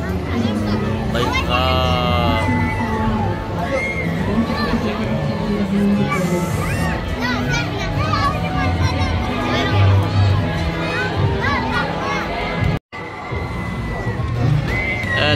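Riders on a fairground swing ride at Global Village scream and shout amid a busy crowd, a loud continuous din of cheering voices and children, with people talking nearby throughout.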